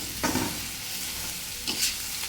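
Beetroot being stirred and gently fried in a pan over low heat, two short bursts of spatula scraping over a soft steady sizzle, close and fairly quiet, no talk.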